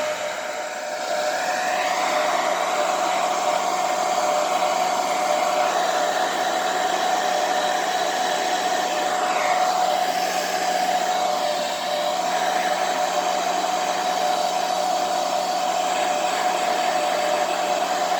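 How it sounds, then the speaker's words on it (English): A hair dryer on low heat whirs loudly and steadily over poured tempera paint, a constant airy blow with a high motor whine, running without pause throughout. "We're just going to use the hairdryer. And we're going to put it on low heat."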